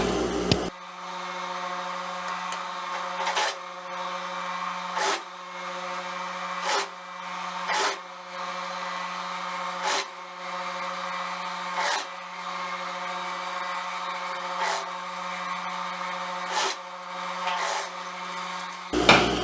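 A sewing machine stitches the other side of a pantacourt jumpsuit seam in steady running bursts, with short pauses and louder knocks between passes, close and alone with no voices.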